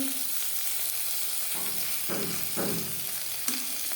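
Eggplant slices fry in hot oil with a constant crackling sizzle, broken by a few brief bursts of louder spattering as pieces are stirred or turned.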